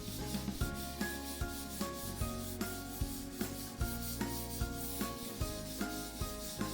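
Fingers rubbing and blending charcoal across paper while shading a cylinder, a steady soft scrubbing with regular strokes roughly every half second, close and alone.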